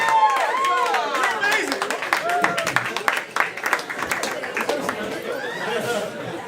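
At a magic show in a bar, the audience claps as a lady is called up onstage. The clapping is scattered and moderately loud, mixed with chatter, a chuckle and voices throughout.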